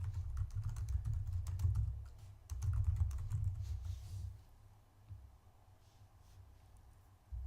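Computer keyboard typing in short bursts of quick, close clicks, pausing briefly before resuming, with a low steady hum underneath during entry of comments into a ServiceNow Express incident record.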